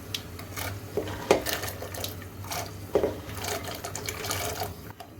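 Dry chickpeas tipped into a pot of water heating on the stove for masala chanay, giving a few soft splashing plops and rattles over a steady low burner hum, with no talking.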